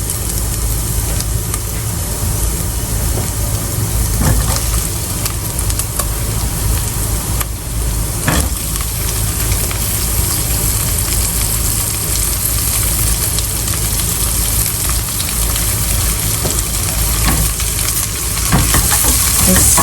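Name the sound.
zucchini and Lithuanian kotletai frying and stirred in pan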